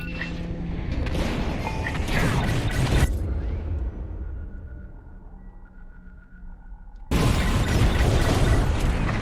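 Bombs explode on a Star Destroyer in Star Wars: Squadrons: heavy booming blasts, a quieter rumbling hum in the middle, then another loud burst of explosions.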